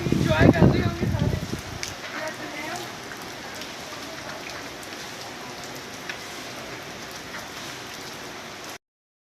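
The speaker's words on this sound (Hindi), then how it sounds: "इतनी तेज़ बारिश कभी हुई है" Heavy rain pours down as a steady dense hiss that runs throughout, with a voice talking loudly over it at the start.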